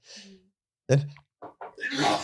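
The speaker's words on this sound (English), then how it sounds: "Sorry, I'm having a sneezing fit." A single sharp sneeze bursts out close to the microphone during a sneezing fit on a bilingual podcast, set between softer breathy gasps and sniffs before and after.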